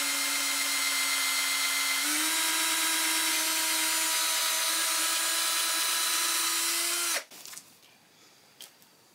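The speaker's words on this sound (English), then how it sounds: "I hold my drill straight." A power drill whines steadily for several seconds, pitch rising slightly as it bites into the wooden neck of an archtop guitar, then stops abruptly, leaving a few soft clunks.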